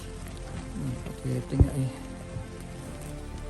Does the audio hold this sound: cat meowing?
no